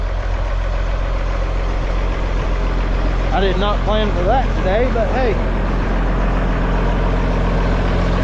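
An Allis-Chalmers tractor engine idles with a steady, low, droning rumble while someone talks over it for most of the stretch.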